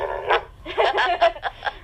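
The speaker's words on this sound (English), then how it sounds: "Now you're making me bark." A guide dog barks on command indoors, several close, loud barks in a short irregular burst with brief gaps between them.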